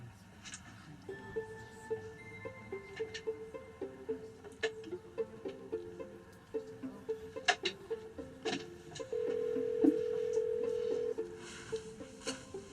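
A telephone is dialed: a series of short, evenly spaced electronic keypad tones at shifting pitches, then a longer steady tone, all faint against a quiet indoor background.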